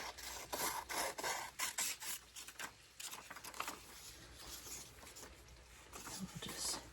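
Scissors snip and trim paper for a glue book in a quick run of close, crisp cuts and rustles, quiet and largely free of talk.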